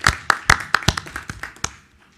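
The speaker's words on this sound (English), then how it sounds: "let's extend them a well-deserved round of applause for all of our recipients" Sparse hand claps ring out at a school board meeting, a dozen or so sharp claps in an uneven rhythm that thin out and fade within two seconds.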